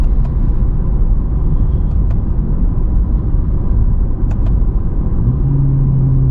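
A Lexus IS250 F Sport in sport mode gives a steady, loud low engine rumble from inside the cabin, with a deeper tone rising near the end as it accelerates.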